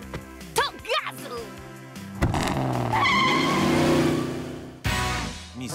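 A cartoon car engine revs and accelerates with a rising whine, tires squealing briefly, amid music and a cartoonish soundtrack with voices.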